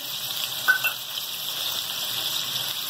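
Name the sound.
ginger garlic paste sizzling in pan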